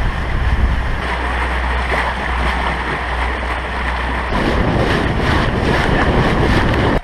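Wind and waves on a boat crossing to South Bimini, a steady rushing blend of wind buffeting the microphone, engine-like low rumble and splashing water, continuous and close throughout.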